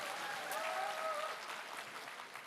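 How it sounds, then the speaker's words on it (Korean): An audience at a Democratic Party joint campaign rally in Daegu and Gyeongbuk claps in a sustained wash of applause, with a brief whistle-like tone and faint crowd noise underneath. "박수 한번 쳐주십시오."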